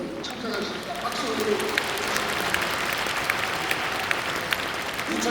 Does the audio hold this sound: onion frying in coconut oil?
no